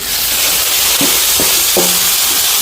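Vegetable vada deep-frying in hot oil for a large vegetarian almsgiving meal in Sri Lanka, giving a steady close sizzle with a few soft stirring knocks and clicks.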